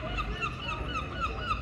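Gulls call repeatedly in short, bright cries over a steady, calm seaside wash on a back beach, several birds overlapping close by with no talk.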